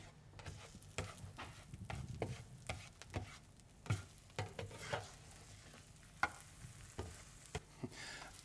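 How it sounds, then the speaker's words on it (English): Reconstituted powdered egg fries in butter in a frying pan, a faint sizzle broken by irregular scraping and tapping from a utensil stirring close by. "Let's go to the frying pan."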